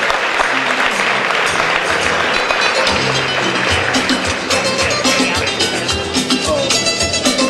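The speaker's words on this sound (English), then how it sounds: "Please give a round of applause." Applause from a gala audience, a dense crowd clapping steadily and loudly for the whole stretch, with faint background murmuring underneath.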